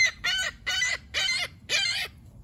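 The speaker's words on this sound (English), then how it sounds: "What's that, Mr. Seagull?" A seagull calls five times in a steady series of loud, harsh cries, each call falling in pitch, heard close by with no talking.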